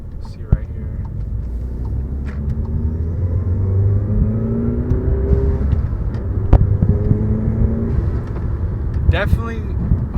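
A Volkswagen Jetta GLI MK7 with a muffler delete and CTS turbo inlet pipe drones and burbles through its exhaust, rising in revs with turbo whoosh, a voice faintly over the engine at times.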